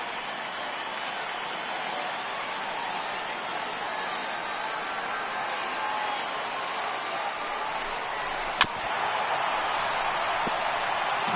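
Stadium crowd noise in the MLB The Show 18 baseball video game, a steady broad roar of a large crowd on its feet, with one sharp crack near the end.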